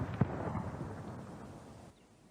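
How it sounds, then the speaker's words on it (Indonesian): A deep cannon boom from a funeral gun salute rolls out at a distance, its low rumble fading slowly over a couple of seconds. "berhenti untuk saat hening semenit diiringi tembakan meriam"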